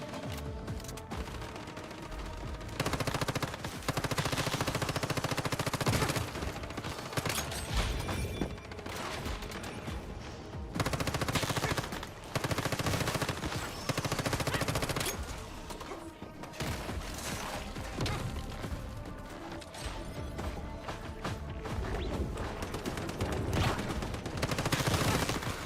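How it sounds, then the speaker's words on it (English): Sustained gunfire during a boss fight in the survival shooter Once Human: rapid bursts of automatic weapons firing in clustered volleys with brief pauses, close and loud, with players talking at times over the shooting. "I just shot in the same direction you were shooting"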